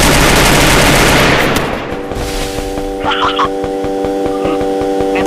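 Rapid bursts of automatic gunfire from a video game shooter crackle steadily, the shots falling in quick regular volleys over a dense bed of game noise, loud and close.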